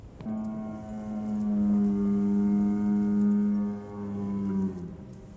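A cow moos in the video game Close to the Sun, one long, loud, close bellow with a steady low tone. It dips briefly near the end, then trails off.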